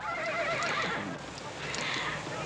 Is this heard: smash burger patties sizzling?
no